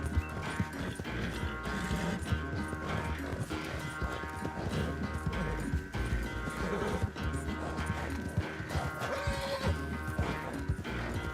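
Horse hooves clip-clop at a gallop in the Red Dead Redemption 2 video game, steady and fairly loud, with whinnies, game music and clattering effects layered throughout.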